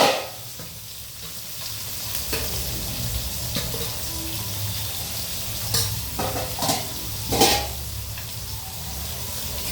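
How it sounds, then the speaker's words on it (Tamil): Food sizzles and crackles steadily while frying in a little oil, with intermittent scraping and clinking as it is stirred in the pan. No one talks. "பொரியட்டு கொஞ்சோண்டு எண்ணெய் ஊற்றிக்கலாம்"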